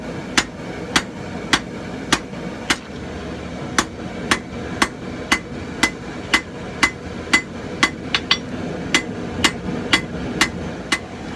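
Blacksmith's hammer forging a draw knife from an old file, drawing out the handle: loud, sharp ringing blows on steel at a steady, roughly half-second rhythm, close by, with a brief gap between series of strikes.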